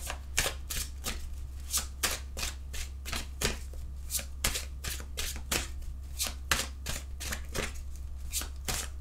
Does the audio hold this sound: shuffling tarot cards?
yes